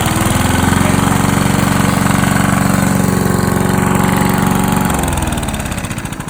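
A grass cutter's small engine runs loud and close with a steady buzzing drone, then winds down toward the end as the throttle drops.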